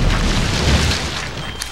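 A bomb flower blowing up in The Legend of Zelda: The Wind Waker, a single deep, rumbling game explosion that fills the moment and fades out quickly, with no voices.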